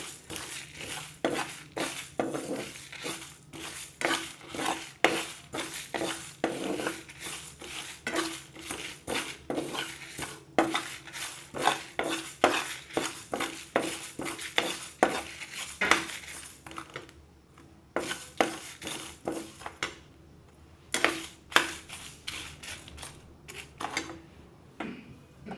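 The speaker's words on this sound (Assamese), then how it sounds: "এইখিনি মই এনেকৈয়ে ভাজি লৈছোঁ আৰু অলপ গৰম হোৱালৈকে ভাজি থাকিম।" Mustard pickle ingredients dry-roasted in a pan, with a steady run of close metal scrapes and clinks from stirring that continue almost without pause, briefly thinning out near the end.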